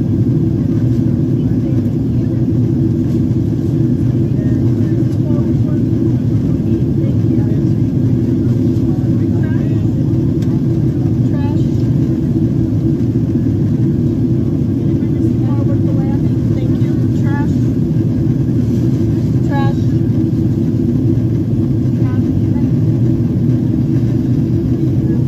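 Steady, loud low-pitched cabin roar and engine drone inside a Delta Boeing 767-400 on landing approach into Atlanta, continuous throughout with faint background chatter.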